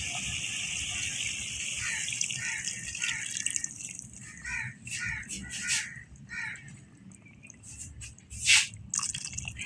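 Water from a kettle splashes and trickles into a pan of spicy tomato fish curry in fitful bursts and drips, close and fairly quiet, while crows caw outside.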